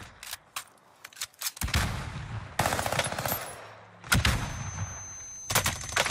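Gunfire in Call of Duty: Warzone: close, loud bursts of rapid automatic shots alternating with single cracks, coming in several dense clusters over a few seconds.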